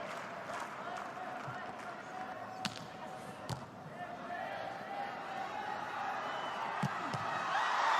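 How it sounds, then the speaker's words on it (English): A crowd at a beach volleyball semifinal between Brazil and Cuba cheers and applauds in a sustained, distant roar that rises toward the end, with sharp ball hits and a commentator talking over it. "getting the crowd on their feet, and they love it"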